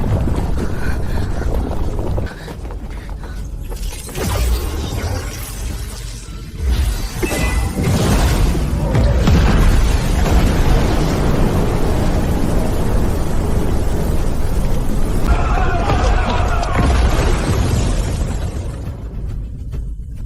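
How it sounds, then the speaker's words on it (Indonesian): A furnace exploding in a fantasy battle scene: a loud, sustained roaring blast with crashing, shattering debris and rushing whooshes, swelling and holding for about twenty seconds with no voices. "Tungku mau meledak."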